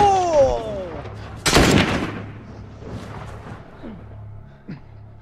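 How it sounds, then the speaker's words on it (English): Gunfire from The Last of Us, one sharp loud crack with a booming tail near the middle, followed by fainter distant pops, with a voice talking and other game sounds around it. "Taunting me after shooting me with a sniper rifle."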